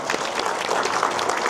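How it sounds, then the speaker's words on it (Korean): An audience at a combat sports awards ceremony in a gymnasium breaks into steady, dense applause, a continuous wash of many hands clapping at moderate loudness with no speech over it. "뜨거운 박수로 환영해 주시기 바랍니다"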